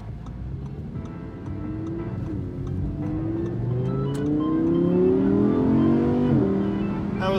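A 2017 Audi R8 V10 Plus engine with stock exhaust revs steadily higher under load, its exhaust note rising in pitch over several seconds before easing off, with faint ticking throughout.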